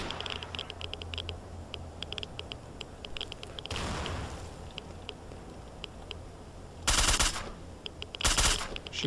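Video game gunfire in STALKER: Shadow of Chernobyl's Red Forest: a long automatic burst, then two short loud volleys over a quieter background of faint crackling shots and ticks, with no talking.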